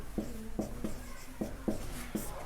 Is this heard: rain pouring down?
no